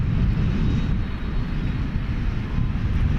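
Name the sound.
American Airlines Airbus A321 jet arriving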